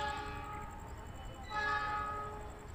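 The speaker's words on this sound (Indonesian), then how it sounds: "belok itu keretanya ya, melintasi berapa itu ya" At the JPL 5 Ambengan railway level crossing in Surabaya, a train horn sounds in long sustained tones over the steady rumble of the passing train, swelling louder midway.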